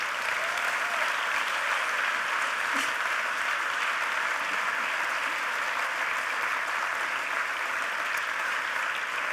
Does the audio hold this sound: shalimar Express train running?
no